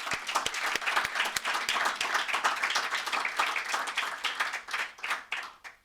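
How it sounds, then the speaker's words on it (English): A room full of people applauds steadily, dense clapping at first that gradually thins toward the end. "a huge round of applause to everybody."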